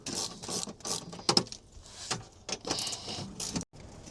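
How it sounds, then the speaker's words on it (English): A socket wrench ratchets out T35 bolts from a van seat in short, clicking bursts with brief pauses between them, close and fairly quiet. "First thing I have to do is take out these T35 bolts."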